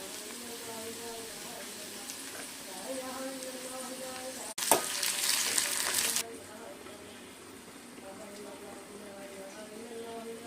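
Tomatoes mashed and fried in a pan for a quick curry, with a loud, sharp sizzling burst of about two seconds midway over a softer steady frying hiss, and a voice heard faintly throughout.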